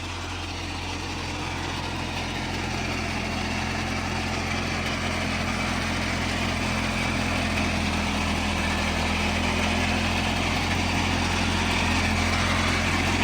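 A tractor engine drones loudly and steadily while an old rotary tiller churns wet, boggy soil, one continuous mechanical roar with no voices.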